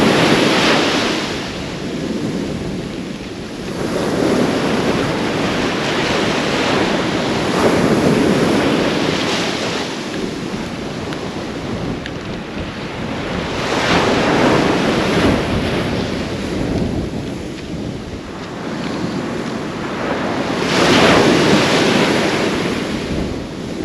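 Wind buffets a microphone on the beach at Kilnsea on England's east coast while sea waves surge and wash in slow, loud swells roughly every several seconds, a continuous roar with no voices.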